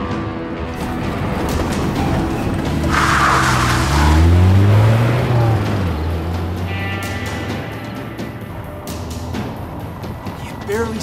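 A car speeds and skids in the game As Dusk Falls, engine roaring and rising as tires squeal through a long swerving slide, close and loud, with tense voices talking over the chase.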